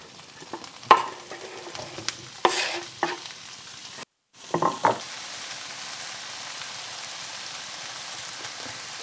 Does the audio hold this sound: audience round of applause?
no